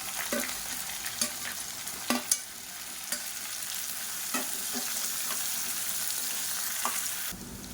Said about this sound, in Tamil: இப்போ இதில் பொடியாக கட் பண்ண பூண்டு சேர்த்துக்கலாம். அது கூடவே பொடியாக கட் பண்ண வெங்காயம் சேர்த்துக்கலாம்.